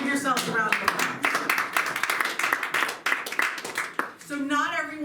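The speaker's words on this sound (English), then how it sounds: "Give yourselves a round of applause." Supporters at a Democratic political gathering clap for themselves, a brisk stretch of close, sharp hand claps with voices heard before and after the burst.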